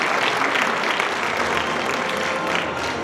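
An audience at a Sejong City vacant-store fair opening ceremony breaks into steady, dense applause, a close wash of clapping hands sustained evenly throughout.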